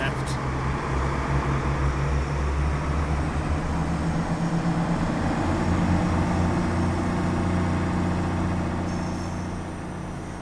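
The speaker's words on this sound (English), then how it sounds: "the reason it's called a microwave is because it sounds like a microwave in action when it's driving" A Roblox SCR train drives along with a steady, microwave-like electric hum and low motor drone that holds for the whole stretch, with talk over it.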